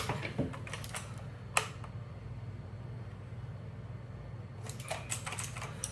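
Someone types on a faulty computer keyboard, producing faint bursts of rapid clicking keystrokes near the start and again near the end, with a quieter stretch between.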